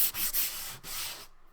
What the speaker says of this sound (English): give it just a little bit of a sand to help the glue stick